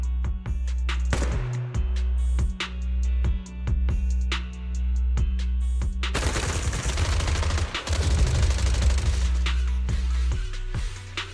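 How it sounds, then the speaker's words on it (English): Suppressive marching gunfire in the video game Zenless Zone Zero: loud, rapid bursts of automatic fire crackle over a steady low hum, growing into a dense volley midway, then thinning to scattered shots. "Gunfire? This pattern. Suppressive marching fire."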